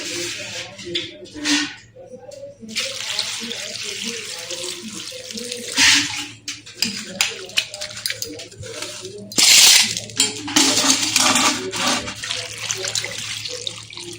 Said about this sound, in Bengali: আর এর ভিতরে আমি জল দিয়ে দিচ্ছি।